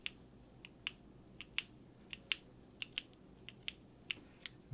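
Keys on a Quantum60 mechanical keyboard are pressed one at a time in an irregular series of about twenty crisp, close clacks against a quiet background.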